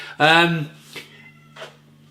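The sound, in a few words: cat meowing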